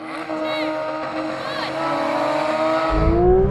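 High-revving Porsche engines from a GT3 RS, GT3, GT4 RS and GT4 drag race roar and climb in pitch as the cars launch and accelerate hard, with a deep rumble rising at the end; voices are faintly present.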